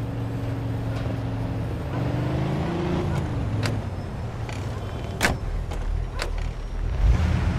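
A car drives in the Mafia 2 video game, a steady engine rumble and road noise running throughout, with a few sharp clicks and knocks near the end.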